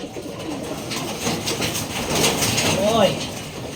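Pigeons coo softly at close range, low burbling calls rising and falling over a few seconds, with a person talking nearby.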